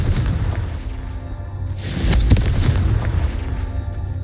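Confringo fire spell explosion in Hogwarts Legacy, a single loud burst around the midpoint over a steady rumbling game-sound backdrop, with no talking.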